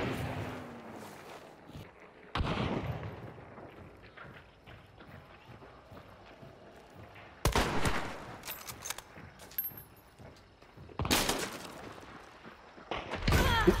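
Gunfire in the video game Hunt: Showdown. Three loud, sharp shots ring out several seconds apart, separated by quieter stretches of clattering, hoof-like footsteps and rustling movement.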